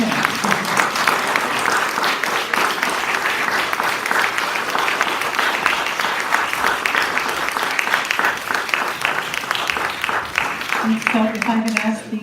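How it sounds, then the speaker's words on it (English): An audience applauds at a local election candidate debate in Wilton. The clapping is loud, dense and sustained for about twelve seconds, with a little crowd noise and a voice speaking near the end. "And you may now all applaud to your marquee guest."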